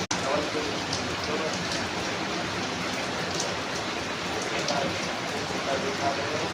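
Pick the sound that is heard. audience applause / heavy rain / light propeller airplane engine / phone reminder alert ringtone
heavy rain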